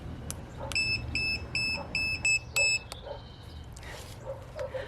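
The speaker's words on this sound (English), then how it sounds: "that little light flashed red and it beeped at me" Portable jump starter power pack hooked to a vehicle battery with the clamps reversed, giving a series of sharp, high electronic warning beeps in short bursts, close and clear over faint background noise.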